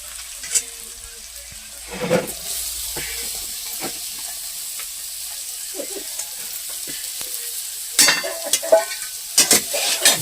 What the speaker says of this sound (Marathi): टाकून याच्यात व्यवस्थित कांदा परतून घ्या.